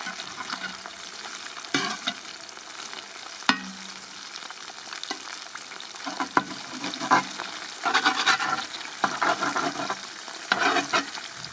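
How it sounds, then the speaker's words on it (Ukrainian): Eggs fry in a pan outdoors during a breakfast in nature, with a continuous crackling sizzle and occasional scrapes and taps as they are flipped to the other side, close up and without speech. "переверну на другий бік яєчка, він любить такі, щоб були обсмажені з двох сторін"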